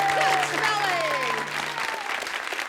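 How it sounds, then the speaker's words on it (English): An audience claps after a children's sing-along of Bingo at a family concert, a steady crowd applause with a voice speaking over it. "Good clapping."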